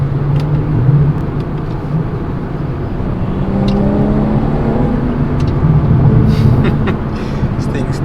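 Modded BMW 340i driving and picking up speed, a steady engine drone with low rising harmonics that swell and fade through the run, heard from inside the car with some talk over it.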